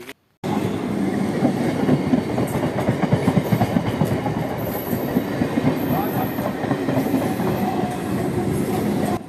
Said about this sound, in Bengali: এই দেখো একটা ট্রেন আসছে কত স্পিডে পুরো উড়ে উড়ে হর হরর করে